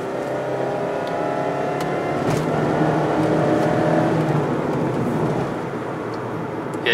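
Mazda MX-5 ND Miata RF engine pulling in third gear, a rising engine drone from inside the cabin over road and wind noise, steady and moderately loud.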